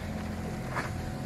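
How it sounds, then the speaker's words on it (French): A sailboat motoring under engine power through a steady swell off Corsica, giving a continuous low engine drone mixed with wind and water rush, with a faint swell of splash midway. "je fais route au moteur pour l'instant"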